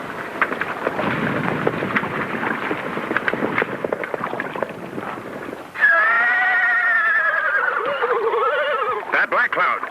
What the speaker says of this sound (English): That Lame Bear's war horse